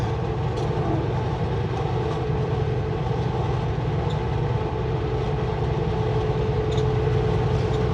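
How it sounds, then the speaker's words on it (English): A steady, dense rumble of a train rolling along the tracks at Eagle Pass, constant and fairly loud with a low droning hum throughout. "there is a train on the other side"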